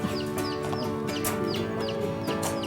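A hen on a school poultry farm clucks and squawks while being handled and put back into its enclosure, with close, agitated calls over steady background noise.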